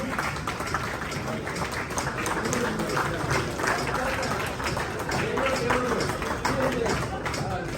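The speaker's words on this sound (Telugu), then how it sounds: "ఒకసారి అందరు లేచి నిలబడి గట్టిగా చప్పట్లు కొట్టండి ప్లీజ్." A room of people rises and applauds together in sustained, dense, loud clapping at a real-estate association gathering, with talk and crowd noise mixed in throughout.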